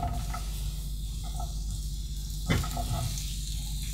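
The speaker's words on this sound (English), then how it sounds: "We're going to put the oil in our nice hot pan and then add the mushrooms. Now start to sizzle." Mushrooms frying in oil in a hot pan give a steady, close sizzle and hiss, with a brief sharper crackle midway.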